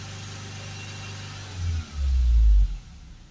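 A Ford Transit van engine with a power-loss and full-DPF fault is held at raised revs. It gives a steady low drone that swells into two louder, deeper surges near the end before settling back.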